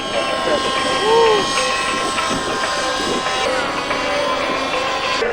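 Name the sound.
60-size model helicopter with 10cc motor flying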